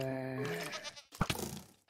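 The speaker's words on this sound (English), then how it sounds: "Oh hey, thanks goat. That goat hit him for me, let's go." A goat bleats once in the Minecraft video game, a loud wavering cry followed by a short impact sound.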